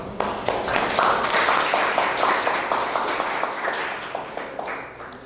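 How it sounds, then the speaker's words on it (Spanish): An audience at a conference on spin-transition nanoparticles breaks into dense, continuous applause that holds steady, then gradually eases off, with a few individual claps still standing out toward the end. "Un aplauso para él."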